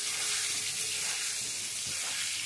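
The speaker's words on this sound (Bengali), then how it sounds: "নতুন আলু ভালো করে সর্ষের তেলে ভেজে নেব।" New potatoes frying in mustard oil, producing a loud continuous close sizzle and hiss with faint stirring movement, no speech.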